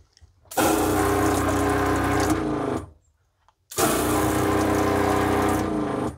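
A camper van's shower water pump runs loud and close in two bursts of steady whirring and rushing water, separated by a short pause, with no one talking.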